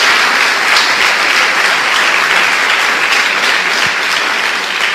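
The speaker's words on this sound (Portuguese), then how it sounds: "Dê uma salva de palmas a Jesus." A church congregation claps together in sustained, loud applause during a worship service, with dense overlapping hand claps filling the whole stretch without pause.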